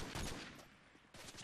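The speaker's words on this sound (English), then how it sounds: "he's shooting at me now" Gunfire in the Modern Warfare 3 video game Search and Destroy mode, rapid muffled bursts of shots that come fairly quietly and continuously, with a short dip before the firing resumes.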